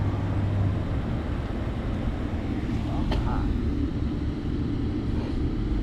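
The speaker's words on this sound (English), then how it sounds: "Now that I actually am hearing the tires." Steady, loud tire and road rumble inside a second-generation Honda Prelude fitted with a new clutch, heard from the cabin while driving.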